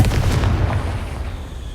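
A Confringo spell blast in the Hogwarts Legacy video game: a loud, close, rumbling explosion that bursts at once and then rolls off and fades over a couple of seconds, with no voices.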